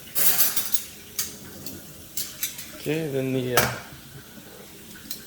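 Plates and silverware are set into a Joseph Joseph extendable dish rack, with sharp clinks and clatters at irregular intervals up close, and a person speaks briefly partway through.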